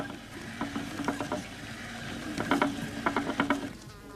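A big wool spinning wheel, the Tourne More, turns with its spindle driven by a band of wool. There is a soft whirring hum, with light, repeated ticking and pattering in short rhythmic clusters, close and moderately quiet.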